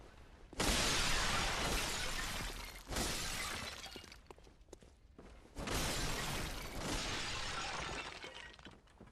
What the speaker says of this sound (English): The pots are still rocking.